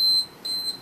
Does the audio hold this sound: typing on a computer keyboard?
no